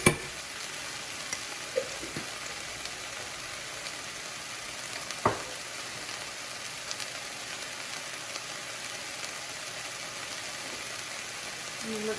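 Fresh ground garlic and garlic paste fry in a pan with a soft, steady sizzle, punctuated by a few sharp clinks and stirring taps, close and moderate.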